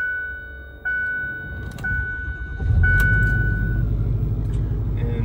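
A Ford F250 pickup truck engine cranks and fires up, then settles into a loud, steady rumbling idle close by, with a few brief chimes and clicks over the top.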